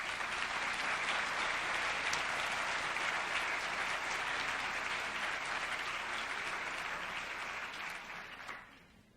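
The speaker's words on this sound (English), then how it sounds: "And now you can give a little applause for all of them." Sustained applause from the audience at a swearing-in ceremony for a New Jersey Supreme Court justice, a dense steady wash of many hands that holds for several seconds before tapering off at the end.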